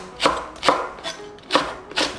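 A knife chops green onion on a cutting board for a cheap homemade Korean drinking snack: five sharp, evenly spaced chops, close and clear, with no voices.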